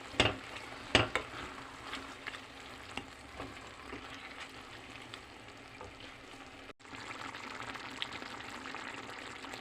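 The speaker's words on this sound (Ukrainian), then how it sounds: "Тепер ця смісь хай вся тушиться." A shakshuka tomato mixture with tomato paste stews in a pan, giving a soft, steady bubbling sizzle with a few faint clinks, quiet and close, and no talking.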